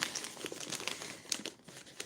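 Crinkling plastic rustles and crackles up close as a package is handled and cut open, quiet and uneven.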